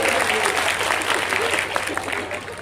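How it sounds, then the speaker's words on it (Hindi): Loud, continuous applause from the audience at an all-India poet gathering at a college, with crowd murmur and some voices mixed in. "एक बार जोरदार तालियां बजा करके आपसे।"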